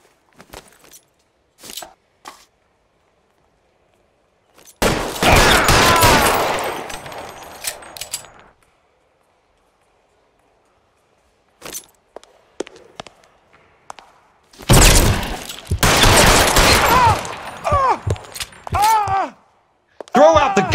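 Gunfire in the 1940s Los Angeles detective game L.A. Noire comes in two loud bursts of sharp shots separated by quiet gaps with scattered clicks and thuds, and a voice talks near the end.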